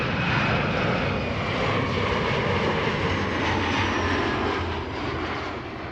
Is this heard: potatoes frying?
no